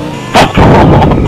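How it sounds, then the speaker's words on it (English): Gunfire in GTA 4 multiplayer: a loud, sharp gunshot burst followed by a sustained, booming volley of shots lasting about a second, close and heavy, with no talk over it. "I shot you out of the sky."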